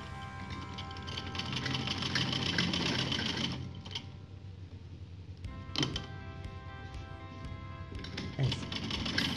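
Electric sewing machine stitching a third seam along the folded edge of a salwar in a tailoring session, a steady close whirring run with brief pauses and a few thunks as the fabric is repositioned, no talk.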